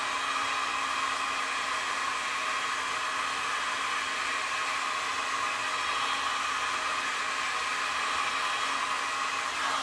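A heat tool blows steadily over alcohol inks on tiles, a constant even hiss-like whir at moderate level, unchanging and alone for about ten seconds.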